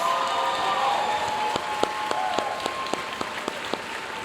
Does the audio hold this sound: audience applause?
yes